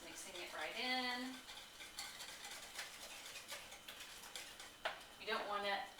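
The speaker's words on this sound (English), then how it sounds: "So, just mixing it right in." Apple snack cake batter being stirred by hand in a bowl, soft scraping and thudding strokes in an uneven rhythm, with a voice briefly speaking at the start and again near the end.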